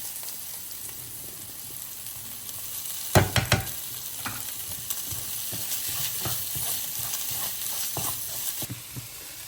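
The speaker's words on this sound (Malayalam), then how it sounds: "ഇനി ഇതിലത്തേക്ക്" Chicken fries in a pan in a home kitchen, a steady close sizzle with a few sharp clatters of stirring.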